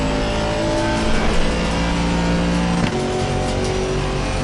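GT3 race cars in a racing video game at Bathurst roar past, a loud sustained engine drone with shifting pitch and a brief dip as one car passes.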